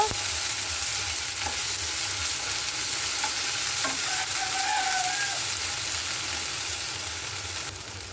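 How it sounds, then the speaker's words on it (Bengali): Ginger-garlic paste fries in oil over chopped onions for a banana-flower and prawn curry, a constant close sizzle with a few soft spatula scrapes and clicks, fading slightly at the end, with no voices. "আদা রসুন বাটাটা ভেজে নেব।"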